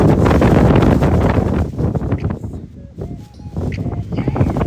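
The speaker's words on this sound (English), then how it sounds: "It's just literally windy." Strong outdoor wind buffets the microphone with a loud, continuous low rumble that dips briefly before surging back, with faint rustling and bird chirps in the gaps.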